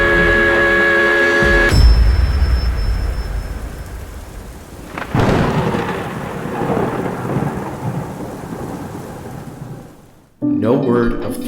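Heavy thunderstorm with pouring rain, loud rumbling thunder cracks over a dense hiss of rainfall, fading briefly near the end before bursting back, with a tonal musical hum at the start.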